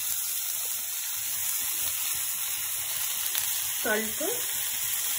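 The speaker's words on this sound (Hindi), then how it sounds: "इसे लगभग एक मिनट के लिए मीडियम फ्लेम पे फ्राई कर लेते हैं" Semiya upma fries in a pan over a medium flame, a steady close sizzling hiss running throughout, with a brief spoken phrase near the end.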